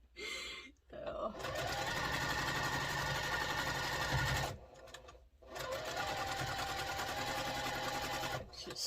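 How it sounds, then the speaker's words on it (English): A domestic sewing machine stitches a quilt block in steady, fast mechanical bursts: one short run, a longer continuous stretch, a pause, then another sustained run, close and fairly loud. "your poor little sewing machine's got to really work"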